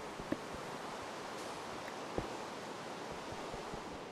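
Rain falls in the block-building video game Agrarian Skies, a soft, steady hiss of fine noise with a couple of faint brief ticks, quiet and constant with no voices.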